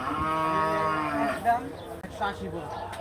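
A cow lows at Gabtoli cattle market during the Eid sale, several drawn-out moos in a row, close and clear, with faint market murmur behind.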